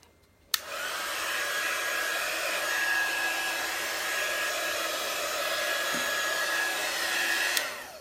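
A handheld hair dryer blows dust off an 8-inch chalk board, switching on abruptly with a steady, close, high whir that holds for several seconds before cutting off, with no talking.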